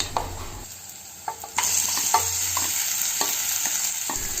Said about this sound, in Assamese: আৰু লগতে দুখিলা নৰসিংহ পাত দি ৰঙচুৱাকৈ ভাজি ললোঁ